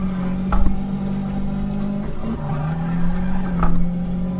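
Car skidding through a handbrake turn in Need for Speed, played with a Logitech G27 wheel: a steady engine drone runs throughout while two short tire squeals break out, the first near the start and the second toward the end.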